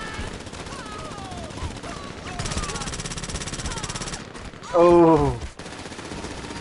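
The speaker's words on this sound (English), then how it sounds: "All I hear is bullets hitting the dirt." Gunfire rattles in GTA Online, with bursts of bullets striking dirt under a person's voice and a brief loud, tonal exclamation near the end.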